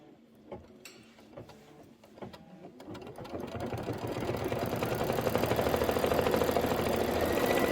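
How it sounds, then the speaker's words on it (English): Computerized sewing machine stitching a quilt block for a Kimberbell project, starting with a few clicks and taps, then ramping up into a steady fast mechanical whir that grows louder and continues. "So I'm just going to hit start, and let's let it stitch."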